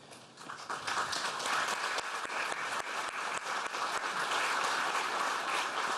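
Applause at a Quebec health minister's press conference, a dense sustained round of clapping that swells after a softer start and holds steady and loud throughout.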